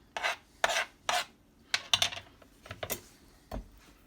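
A knife cuts a cleaned butternut squash into sections, making several separate rasping, crunchy strokes close up, with short pauses between them and no talking.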